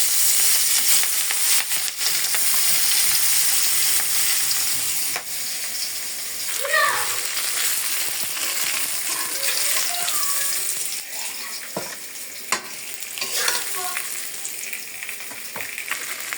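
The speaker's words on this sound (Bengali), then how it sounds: "মাছ ভাজা হয়ে গেছে, নামিয়ে ফেলতেছি" Fish frying in hot oil, a loud steady sizzle with occasional clatter and scraping from a utensil.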